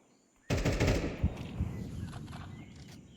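Mac-10 submachine gun firing in the video game Counter-Strike 2 during a match on the map Ancient, a sudden rapid burst of automatic shots followed by scattered further gunfire and a fading tail.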